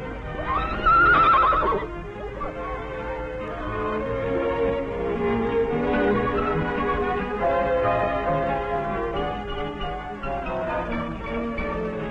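A horse at the Janów stud farm gives a loud, close whinny, followed by further neighing and drawn-out calls over several seconds.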